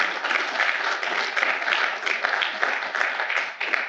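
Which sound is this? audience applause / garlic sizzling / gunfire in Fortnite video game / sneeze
audience applause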